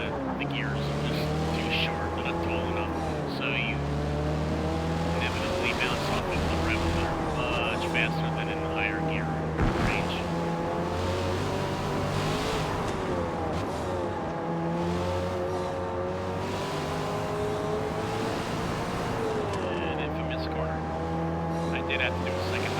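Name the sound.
race car driving on Nürburgring, video game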